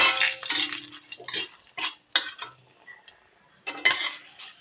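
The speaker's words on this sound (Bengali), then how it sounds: "তেজপাতাটা আর গোটা জিরাটা আমি ভালো করে ভেজে নিচ্ছি" Bay leaf, whole cumin and dried chillies frying in a pan, with repeated metal spatula scrapes and clinks coming in bursts over a soft sizzle, separated by short quieter gaps.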